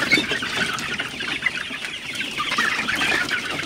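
Sonali hybrid and broiler chickens clucking together inside a poultry shed, a dense, continuous chorus of close and overlapping calls with no voices.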